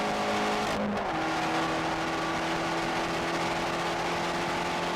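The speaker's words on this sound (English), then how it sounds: "you want to nail your heel toe just so you can hear yourself blip the throttle" A Fiat 500 Abarth's small turbocharged engine revs close by with a quick throttle blip, then its exhaust settles into a steady, droning note that holds for several seconds.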